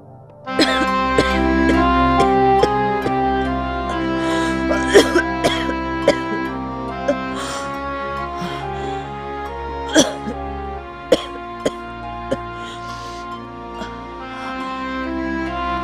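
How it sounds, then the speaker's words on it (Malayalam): Someone with a persistent cough coughs repeatedly, sharp bursts scattered over a sustained musical score, within a Malayalam film scene. "ഇന്നലെ തുടങ്ങിയ ചുമയാണല്ലോ"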